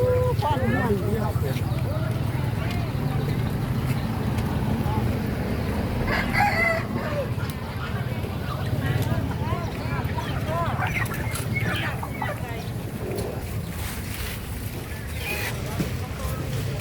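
Live chickens, including black-feathered birds, and ducks for sale at a Lao morning market stall, with a rooster crowing and hens clucking intermittently amid busy crowd chatter and nearby talking.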